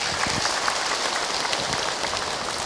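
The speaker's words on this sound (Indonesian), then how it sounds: "Tepuk tangan untuk kita semua" Dense, steady applause from a congregation at an Islamic study gathering led by an ustadz, a continuous hiss-like wash of many hands clapping at once that stays even in loudness throughout, with no clear speech on top.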